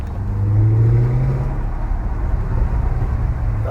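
An MG ZT260 V8 drives along narrow country roads, its engine and exhaust giving a deep, steady rumble that swells under acceleration, rising briefly in pitch before settling, loud and close with no talking.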